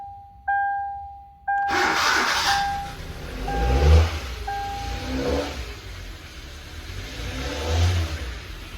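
A Hyundai Accent engine revs in several swells as the accelerator pedal is pressed, rising and falling twice over a steady idle, preceded by a brief electronic chime tone; close and moderately loud.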